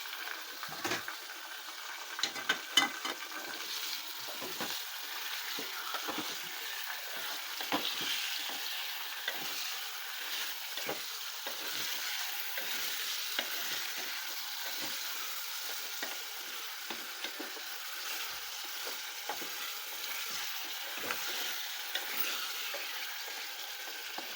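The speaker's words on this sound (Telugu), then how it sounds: "మటన్ వేసుకొని కలిసేలాగా మొత్తం కలిసేలాగా మాత్రం కలుపుకోవాలి" Mutton fry sizzles steadily in a pan while it is stirred, with a constant frying hiss and frequent scraping taps of the spoon against the metal, and no one talks.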